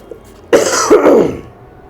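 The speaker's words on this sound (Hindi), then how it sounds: "थोड़ा सा खांसी भी है आज" A man gives one sharp, close throat-clearing cough, a short rough burst of about a second with quiet around it and no words spoken.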